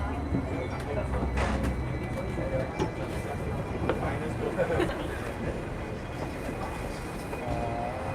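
A Hong Kong tram rumbles steadily along its rails with a constant low mechanical hum, while people talk nearby throughout.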